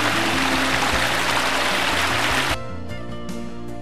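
Clear water of the Trians stream near Vence, France, rushes and gurgles over rocks steadily for a few seconds, a broad bright flow, before cutting abruptly to music.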